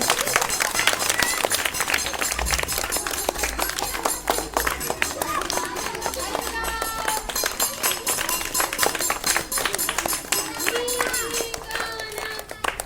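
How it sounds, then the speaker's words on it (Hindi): A group of children clap their hands at a village school, a dense, continuous patter of uneven claps lasting many seconds, close and loud, with voices talking over it. "ताली बजाओ अच्छा बजाओ"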